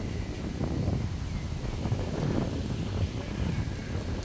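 Strong wind gusts roar continuously across a kite-flying field in Songkhla, southern Thailand, buffeting the microphone with a dense, steady rush.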